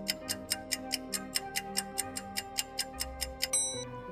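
A ticking time bomb gives off an even, rapid tick-tock of about four ticks per second. The ticks sound close and crisp over a low, sustained musical drone, then stop abruptly near the end.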